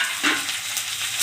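Fish frying in a pan with onion and green chili, a steady close sizzle with brief stirring bursts throughout, no voices.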